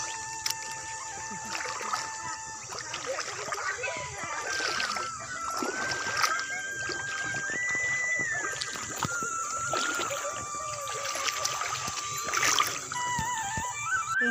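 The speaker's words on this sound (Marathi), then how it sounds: "चला आता या पाण्यातून जायचंय," Wading through cold, clear river water beside farm fields, with steady splashing and a running stream trickling throughout at close range, and what may be faint voices underneath.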